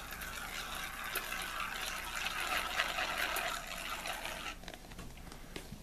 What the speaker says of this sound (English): So I'm just going to squirt some of this out there.